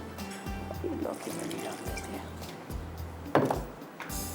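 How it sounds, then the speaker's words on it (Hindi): Water is poured into ground spice masala before grinding it to a paste for Hyderabadi egg pulao, giving a short liquid splash and trickle over kitchen background noise, with a sharper pouring burst near the end. "पहले तो यहाँ पर हम डालते हैं थोड़ा सा पानी ताकि मसाला थोड़ा सा गर्म भी है और वो अच्छी तरह से पीस भी जाए"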